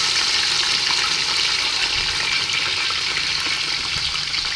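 Half a kilo of chopped onions sizzle in hot oil for a Bhai-style mutton biryani, a steady, dense frying hiss running unbroken at close range with no voices.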